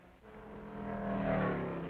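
Corvette SS race cars at the 1957 Sebring race, a steady engine drone that swells and builds slightly as the cars hold pace, heard alone with no talk over it.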